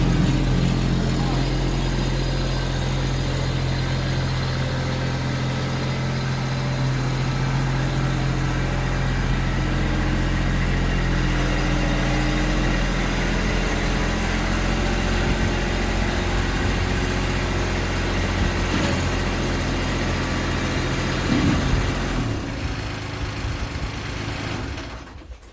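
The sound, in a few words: tractor engine idling as it pulls into shed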